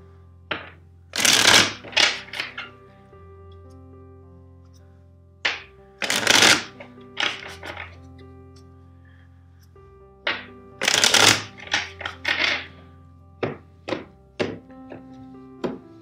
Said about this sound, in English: let's shuffle the deck three times for you.